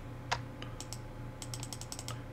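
Computer keyboard clicks during a digital inking and colouring session, a scattering of light taps followed by a quick run of rapid key presses, faint and close, with no voice.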